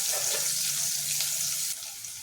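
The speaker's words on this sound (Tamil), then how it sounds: "நல்லா வதங்கட்டு வெங்காயம்" Shallots fry in hot oil with a steady, bright sizzle, close by and continuous, with faint stirring and no voices.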